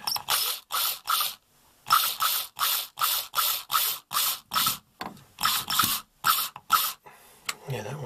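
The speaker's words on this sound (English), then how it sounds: "So now I can get to those screws and tighten them up." A ratchet tightening the screws of a loose shower handle clicks in quick, loud, close bursts of rapid pawl ratcheting, repeated about a dozen times with short pauses between strokes.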